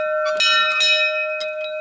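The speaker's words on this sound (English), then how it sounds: "Well, let's ring the bell" A bell rings at an old Templar commandery, struck several times in close succession with a bright, sustained metallic tone and long ringing overtones, loud and near with no talking.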